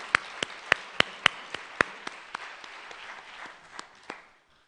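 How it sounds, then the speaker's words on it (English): Scattered claps at a human trafficking awareness symposium after a performance, a sparse series of distinct hand claps at a fairly steady pace that thins out and stops. "Let's give him another round of applause."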